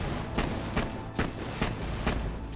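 A flame-type gun in Borderlands 2 fires in a steady stream of booming shots, about one every half second, loud and close with no voices over them.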